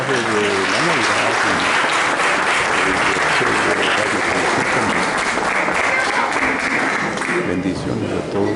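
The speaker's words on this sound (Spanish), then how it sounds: "Les recibimos con un fuerte aplauso." An audience breaks into loud, sustained applause at a Christmas gathering, dense steady clapping filling the space throughout with crowd noise mixed in.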